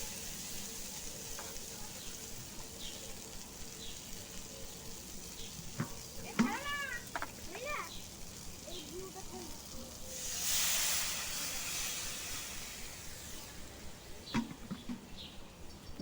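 Water goes into a pan of fried potatoes, bringing a swelling hiss and sizzle after some faint clinks and scraping, all fairly quiet with a steady background hum.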